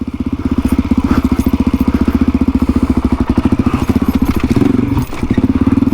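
A Suzuki DRZ400E enduro motorcycle fitted with a safari tank, ridden downhill off-road: a close, loud, rapidly pulsing single-cylinder engine note that stays steady throughout, with a brief clatter and dip near the end.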